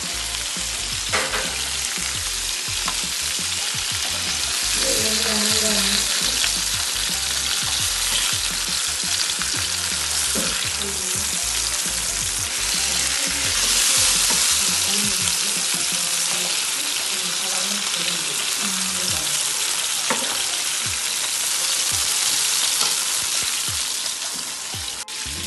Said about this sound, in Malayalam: അങ്ങനെ ഞാനിതാ നന്നായി മന്തിൻ്റെ ചിക്കൻ പൊരിഞ്ഞിട്ടുണ്ട്.